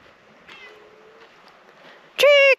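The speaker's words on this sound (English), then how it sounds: "Are you coming, cat?" A cat gives a loud, close, drawn-out meow near the end, after a quieter stretch with faint whistling tones and soft outdoor background at dusk.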